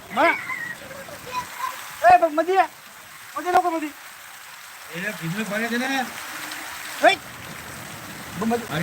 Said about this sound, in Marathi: पावसाचा वेग आणखी वाढलेला आहे त्याचबरोबर हवा सुद्धा मोठ्या प्रमाणात सुटत आहे